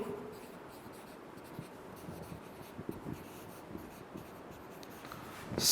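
Chalk or marker scratching across a board in a chemistry lecture room, a steady run of soft scraping strokes and taps at close range with no talking.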